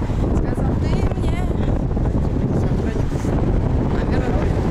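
Loud, constant sea wind roaring against the microphone in Saint Petersburg, a dense low rumble throughout with faint voices mixed underneath.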